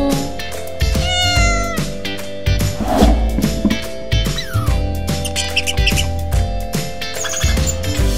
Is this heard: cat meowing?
yes